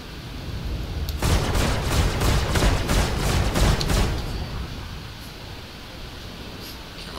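A rocket fired from a Gladiator ship in the space game Star Citizen, heard as a loud, dense burst of rapid rumbling blasts lasting about three seconds, then fading into a steady engine-like roar, with no voices.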